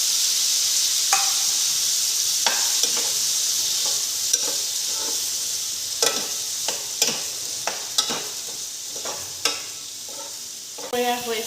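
Ginger-garlic paste sizzles steadily in a hot pan for a soyabean curry, a constant bright hiss broken by scattered crackles and stirring scrapes, with a quick burst of spattering near the end.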